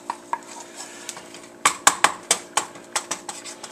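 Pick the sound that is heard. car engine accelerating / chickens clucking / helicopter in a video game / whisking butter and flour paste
whisking butter and flour paste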